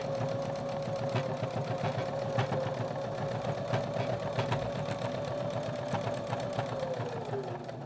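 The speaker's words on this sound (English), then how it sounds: "I use the inside edge of my foot for my top stitching" A sewing machine top stitches a seat belt cover, running close, fast and steady with a rhythmic mechanical chatter and whirring hum for almost eight seconds, easing slightly at the end, with no talking.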